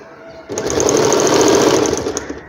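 Sewing machine running a steady, fast stitch along the hem edge of an umbrella frock, starting abruptly after a brief quiet moment and continuing loud and close as an even mechanical whir.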